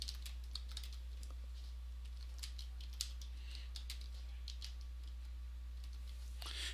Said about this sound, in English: I'm going to type in a string